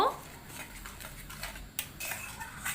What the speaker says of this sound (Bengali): অনবরত নেড়ে চেড়ে সুজিটাকে রান্না করে নিয়ে একটা ডো তৈরি করে নিতে হবে